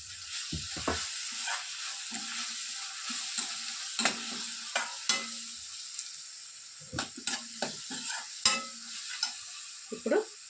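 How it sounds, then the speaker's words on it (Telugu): Ground green chilli paste frying in a pan while being stirred, with a continuous sizzle broken by repeated scraping stirs and utensil knocks, close and moderately loud, alone without talk. "ఇప్పుడు మిక్సీ పట్టుకున్నటువంటి ఈ పచ్చిమిర్చి పేస్ట్ని ఇందులోనికి వేసేసుకుంటున్నాను."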